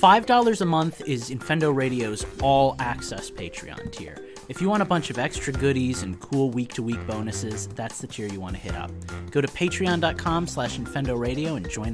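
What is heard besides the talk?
No everyday noise stands out behind the speech.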